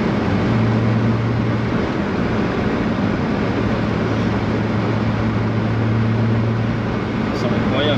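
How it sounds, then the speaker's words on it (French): A Volkswagen Corrado VR6 revs at 7000 rpm, its exhaust a loud, steady, droning tone heard from inside the car, with voices talking over it. "T'as que le bruit d'échappement"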